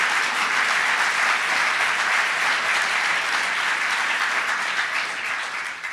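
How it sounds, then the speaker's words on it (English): Sustained applause from the crowd at a New York gubernatorial inauguration event in Buffalo's Historical Society, a thick, even roar of many hands clapping, fading a little near the end. "So give yourselves a round of applause for that good work."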